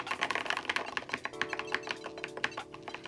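Rapid, uneven typing on a Mechwild Clunker mechanical keyboard with short clicky keystrokes, joined by a thin, steady electronic tone from its piezo speaker partway through, close and fairly quiet.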